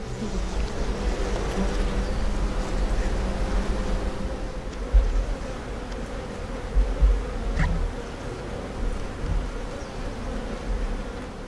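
Honeybees swarm and buzz in a steady, dense drone around an opened hive on a modern Japanese bee farm, close and continuous, with a few low bumps and knocks of handling underneath.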